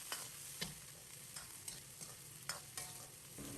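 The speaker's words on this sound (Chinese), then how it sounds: "在锅中翻炒" Garlic and chillies are stir-fried in a wok for garlic chicken wings, with a continuous close sizzle broken by several sharp scraping strokes of the spatula.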